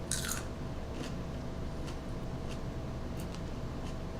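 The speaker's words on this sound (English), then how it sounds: "I really enjoy how crunchy the raw green beans are." Raw green beans dipped in guacamole are bitten and chewed close to the mic, a sharp crunch at the start followed by quieter, irregular chewing and munching over a low background hum.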